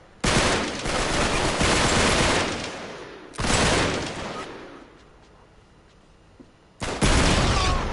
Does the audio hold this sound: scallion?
no